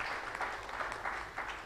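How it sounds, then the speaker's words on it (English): Soft, distant applause from a small roundtable audience, a brief patter of clapping at low volume. "Let's have a round of applause for her."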